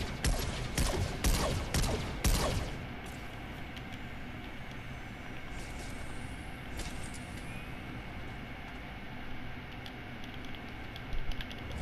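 Gunfire in the video game Fortnite, a quick string of five or six sharp shots that fades into a low rumbling ambience, with a couple of faint distant reports later on.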